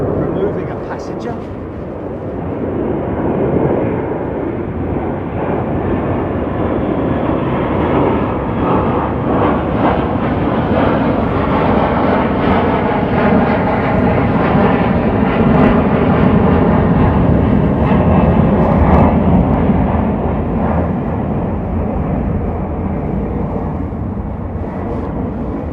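An Airbus A330 airliner at London Heathrow Airport makes a loud, steady jet engine roar that builds and holds for the whole stretch, with people talking over it.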